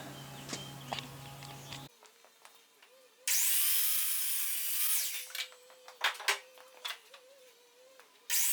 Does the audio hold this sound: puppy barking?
no